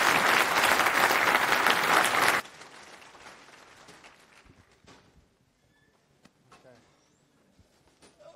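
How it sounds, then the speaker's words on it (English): Audience applause at a tech conference talk on open email standards, loud and dense for about two seconds, then cutting off abruptly to room murmur and scattered noise. "Give a warm applause."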